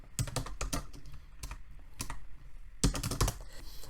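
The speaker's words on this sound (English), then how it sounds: "I'm just going to double click on that and then I'm going to type my name." A computer keyboard is typed on in quick clusters of close, crisp keystrokes while a name is entered, with short pauses between the bursts and no talking.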